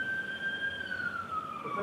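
An ambulance siren passes outside a courtroom, a steady wailing tone that slowly falls in pitch as it goes by, fairly loud and heard on its own.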